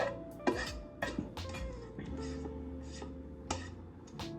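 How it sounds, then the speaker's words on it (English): Rice being mixed into a cooked stir fry in a pan, with repeated close clinks and scrapes of a utensil against the pan in an uneven rhythm over a low background hum. "combining all of this rice with the rest of the cooked stir fry"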